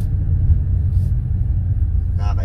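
A deep, steady V8 engine rumble from a 2015 Toyota Tundra pickup truck, low and continuous throughout, with a brief higher rattle near the end.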